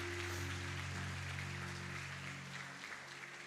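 A church congregation claps steadily for about three seconds, a dense wash of applause over sustained keyboard or organ tones that fade toward the end.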